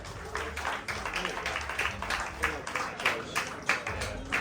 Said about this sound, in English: Big round of applause, Nathalie and Jade.